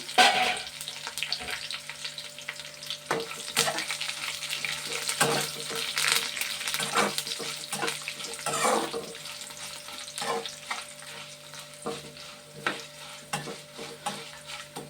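Spices crackle and sizzle in hot oil close up, with stirring and scraping clatter in a pan and no one speaking.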